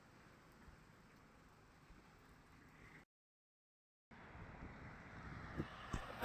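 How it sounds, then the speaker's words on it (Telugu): Rain falls steadily in Pune, Maharashtra, in a soft, even wash, dropping out completely for about a second midway before resuming. "వర్షం పడుతుంది బాగా"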